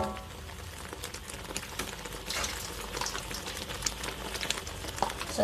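Blended peanuts for a satay peanut sauce sizzle and crackle steadily in a pan, a dense, continuous frying hiss with small pops, heard alone without talk.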